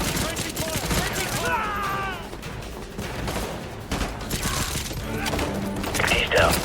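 Rapid automatic gunfire and scattered shots crack through a firefight in Call of Duty: Modern Warfare 2 Remastered, the Contingency mission at an enemy base, loud bursts under shouted voices and chatter.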